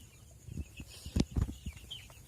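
Healthy chickens in a coop bedded with sawdust, giving a few soft clucks and low grunting calls close by, with a brief higher chirp near the end, quiet overall.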